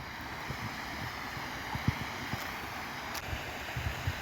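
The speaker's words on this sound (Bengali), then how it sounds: "এই সামনে একটা ফলস আছে রাতমোহনার সামনে" Water pouring over a small falls on the Subarnarekha river at Ratmohana, Ghatshila, a steady broadband rush with low rumbling and faint wind buffeting the microphone, continuous throughout with no voices.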